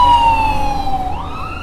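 Steady highway traffic rumbles close by while an emergency siren wails through it, its pitch holding and then sweeping as the vehicle passes. No one speaks.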